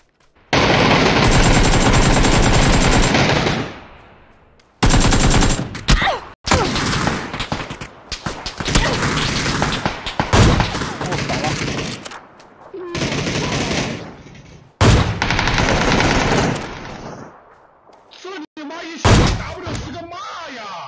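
AK rifle fire in a shooter video game, loud bursts and rapid automatic volleys broken by sudden silences and short single shots, with someone talking in between.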